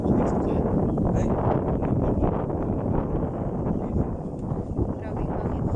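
Strong wind on a farm buffets the microphone in a loud, continuous low roar with gusty swells, sounding close and rough throughout.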